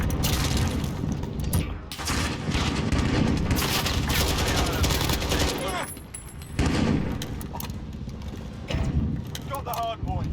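Gunfire crackles through a Modern Warfare multiplayer match, dense overlapping automatic bursts and booms sustained across nearly the whole stretch, with a brief lull midway and game voice chatter mixed in.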